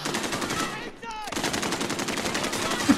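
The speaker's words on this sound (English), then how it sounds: "Thomas, somebody else is shooting!" Rapid automatic gunfire rattles in a Call of Duty: Warzone match, dense and close with a brief gap in the middle, then a steady stream of shots resuming.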